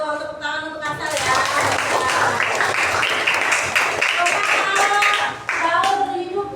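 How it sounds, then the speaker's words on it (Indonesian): Children in an elementary classroom clap together in a loud, sustained burst of applause that runs for several seconds, with young voices calling out over the clapping. "Tepuk tangan untuk Kasar ya."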